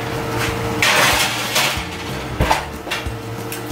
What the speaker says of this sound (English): Yum, in the oven they go.